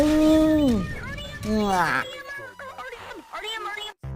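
A cat meows in the Roblox game Item Asylum, with several short whining cries blending with excited talk over the top.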